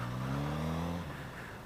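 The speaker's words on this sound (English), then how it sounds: "I am barely blipping this throttle." A 2016 Suzuki GSX-S1000 ABS motorcycle engine idles with a steady, low, throaty drone under light throttle blips, close by. The tone holds for about a second, then loosens and drops away.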